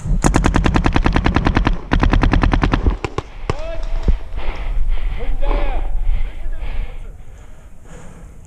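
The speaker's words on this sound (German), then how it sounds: "Basti, mach mal so ein paar Schüsse auf die Deckung da oben." In a scenario game, a rapid string of loud, close shots is fired at wooden cover in two bursts, followed by a few scattered shots and people talking.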